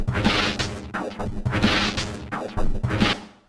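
A Speak and Spell preset in iZotope Stutter Edit 2 imitates a toy's robotic voice on nearly flat batteries, giving three loud, crunchy, glitchy bursts of garbled synthetic speech, each fading into a sputtering tail.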